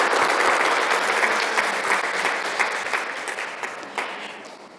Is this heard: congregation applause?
yes